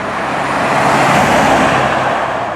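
Heavy Bentley Mulsanne luxury sedan, about 6,000 pounds, accelerating hard from inside the cabin, a steady loud broadband engine and road roar sustained throughout without talk.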